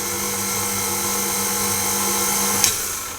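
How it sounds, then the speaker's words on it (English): A stand mixer running steadily on low speed, kneading pretzel dough for rolls or buns, with a continuous motor whine and hum and a small knock near the end. "I'm going to mix that on a low speed and knead it"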